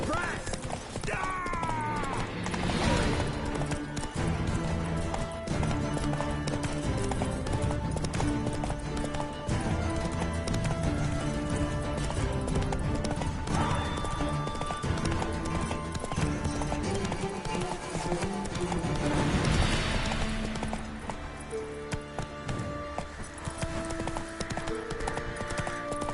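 Roach the horse gallops in The Witcher 3 on PS5, with steady rhythmic hoofbeats running throughout under a dense, loud music score and brief snorts.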